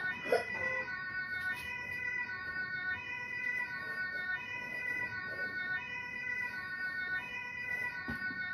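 A German police car siren wails steadily with a sustained tonal pattern, held throughout at moderate level over faint background noise.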